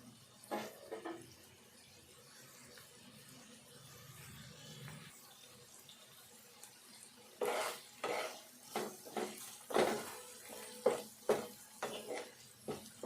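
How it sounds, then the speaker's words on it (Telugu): Spoon stirring spiny bitter gourd and tomato curry with green chillies as it fries in a pan: soft at first, then a run of sharp scraping strokes against the metal, with no talk. "ఇది కలుపుకుందాము, వేగుతుంది."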